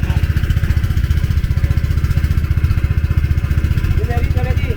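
A loud engine runs steadily at close range with a fast rhythmic throb during a river crossing in Kuching, Malaysia, and voices may be faintly audible under it.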